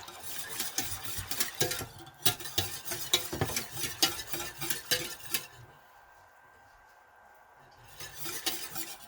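Panna cotta mixture stirred in a pot, with a spoon or whisk scraping and clinking against the metal in quick repeated strokes, then a quiet pause before the stirring resumes near the end.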